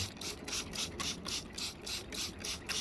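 Rapid rhythmic spritzing from a spray bottle dampening potting mix, about a dozen quick hissing pumps in a steady rhythm, close and fairly loud.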